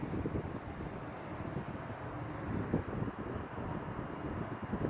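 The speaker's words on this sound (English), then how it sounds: "It's definitely windy today." Steady wind buffets the microphone outdoors at a model glider flying field, a low continuous rumbling roar with gusty swells and no talking.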